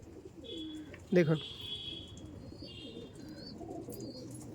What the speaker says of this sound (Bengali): বন্ধুরা পায়রা দেখুন